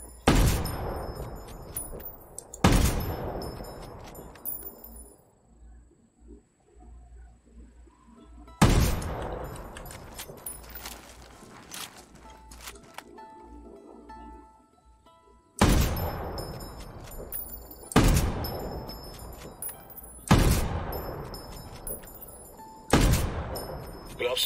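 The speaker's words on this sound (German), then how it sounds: "Keine Ahnung, wo die Schüsse landen." Several loud gunshot bursts ring out at irregular intervals in the video game Ghost Recon Wildlands, each blast decaying into a long echoing tail, with quieter stretches in between.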